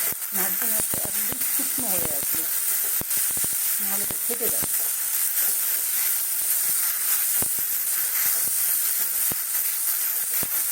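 Moong dal frying in hot oil for kachori filling, a steady close sizzling hiss throughout with occasional stirring clinks and scrapes, and brief bits of speech early on.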